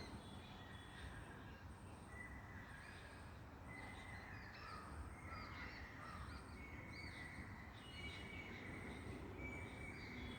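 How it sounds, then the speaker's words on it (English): Quiet, distant birds call and chirp repeatedly over a steady background hiss and rumble, with no one speaking. "Listen the sound of birds. Birds are chirping outside."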